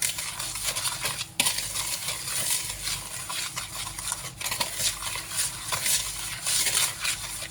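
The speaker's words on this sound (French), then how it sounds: "Vous mettez toute la cassonade. Et vous mélangez le tout." Spoon scraping and stirring brown sugar (cassonade) into a speculoos dough mixture in a bowl, a steady close run of gritty scrapes and light clinks with no voices.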